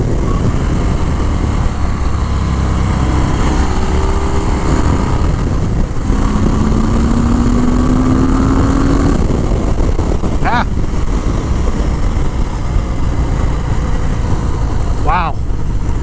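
A Harley-Davidson Fat Bob motorcycle engine runs loud and steady throughout, revving up with a rough, heavy rumble, while a voice speaks over it.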